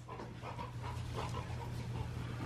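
Dogs panting and whimpering indoors at home, a faint series of soft, breathy pants and small whines over a steady low hum.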